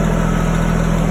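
A small tractor engine runs steadily nearby, a loud even idle with a constant low hum and no change in pace, no voices.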